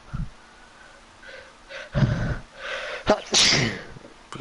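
A single sneeze bursts out near the microphone during a Fortnite console session, preceded by sharp breaths and snorts and followed by a loud exhale, with no talking over it.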